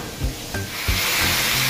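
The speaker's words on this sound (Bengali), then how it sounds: "এখানে আমি দিচ্ছি শসা, গাজর, টমেটো। তো আমি এগুলো এখানে দিয়ে ভেজে নেব।" Cucumber, carrot, tomato and green chillies fry in oil, with a hissing sizzle that swells and steadies, broken by a few soft knocks of stirring in the pan.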